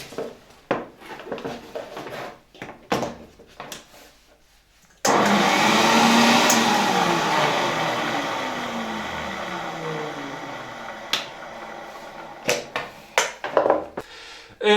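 A 1972 Saturnas vacuum cleaner from Vilnius, freshly reassembled, starts abruptly after some handling knocks, runs as a loud, close whirring roar that slowly winds down, then more clattering handling follows.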